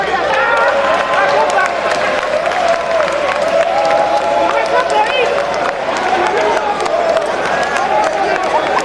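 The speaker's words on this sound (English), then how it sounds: "As you clap" A crowd claps steadily at an outdoor community fund disbursement ceremony in Sierra Leone, with a dense, continuous patter of many hands and murmuring voices mixed in throughout.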